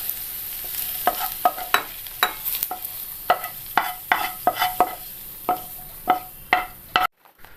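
Onion, green chilli, ginger, garlic and curry leaves stirred in hot oil for a potato masala curry, a steady sizzle with repeated sharp scraping strokes of a spoon against the pan, close up, ending abruptly.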